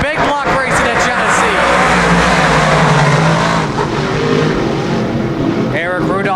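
Big block dirt track race cars roar off the start of a heat at Genesee, a dense, loud wall of revving engines that rises and surges throughout, with an announcer talking over the din.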